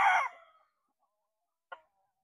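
A White Kelso and Sweater cross gamefowl cockerel lets out a short, close crow-like call that trails off, followed after a pause by a brief single cluck.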